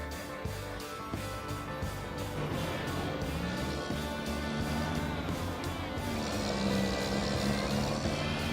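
A Kenworth truck engine in Farming Simulator 25 drones loudly and steadily with a harmonic whine. It holds an even pitch, then rises slightly near the end as the truck accelerates.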